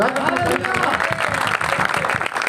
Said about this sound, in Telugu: అందరూ చప్పట్లు కొడదామా